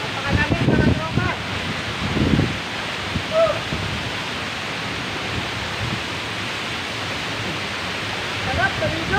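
Busay Falls, a waterfall in Casiguran, Sorsogon, gives a constant broadband rushing roar of falling water, steady and moderately loud, with a person talking briefly over it near the start.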